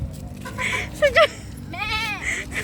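A person mimics a goat's bleat in a warbling, wavering voice, with two short bleats near the start and then a longer quivering one. The imitation is fairly close and comes amid casual talk and laughter among family members.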